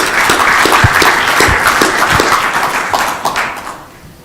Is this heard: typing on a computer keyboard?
no